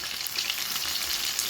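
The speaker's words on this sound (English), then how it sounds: "You don't have to adjust the heat since it's deep frying." Fish fillet deep frying in hot oil over high heat, a dense, steady crackling sizzle that fills the short moment without any talk.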